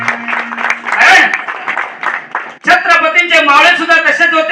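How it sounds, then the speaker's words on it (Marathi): A Marathi dabalbari bhajan crowd claps loudly in honour of Chhatrapati Shivaji, a dense burst over the first couple of seconds mixed with voices, then giving way to harmonic music and singing. "जोरदार टाळ्या माझ्या छत्रपतींसाठी मंडळी"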